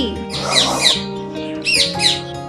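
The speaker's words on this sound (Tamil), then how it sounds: "parrot" A parrot squawks in several harsh, rising bursts, two close together early and two more near the end, loud and near over a steady low background hum.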